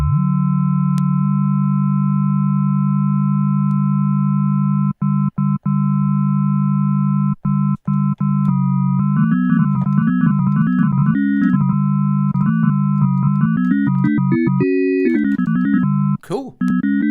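FM-modulated sine waves from a SynthMaster 2 software synthesizer: a long steady low tone with faint overtones, then a series of short gated notes and shifting pitches as the modulation changes, loud and clean with no voice.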